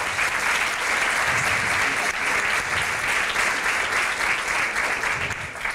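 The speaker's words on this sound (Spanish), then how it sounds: "Un aplauso para ellos." Steady applause from a crowd at a school debate final, sustained and even for several seconds with no break.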